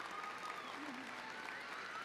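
Steady applause from a graduation ceremony audience for the class of 2022, fairly faint and continuous, with a voice faintly audible beneath it.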